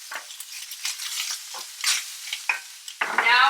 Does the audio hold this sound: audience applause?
no